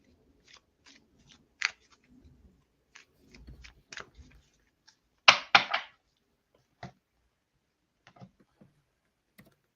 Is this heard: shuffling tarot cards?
yes